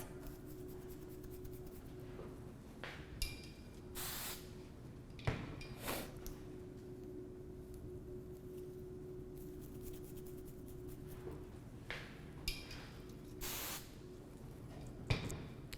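Several short hissing bursts from an aerosol hairspray can, spaced irregularly, close by with soft handling noises between sprays.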